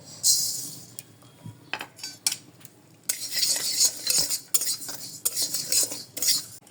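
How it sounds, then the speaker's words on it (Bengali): Cashew nuts and rice are fried in a pan while a metal spoon stirs them, producing uneven scraping and clinking strokes over a faint sizzle, close by. "এখন আমি এগুলোকে ভেজে নেবো একটু একটু করে ভেজে নিব"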